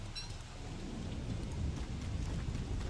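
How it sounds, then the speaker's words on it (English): Thunder rumbling with steady rain in the video game Don't Starve, a continuous low roll of storm noise that swells slightly partway through, with no voices. "That sounds like thunder."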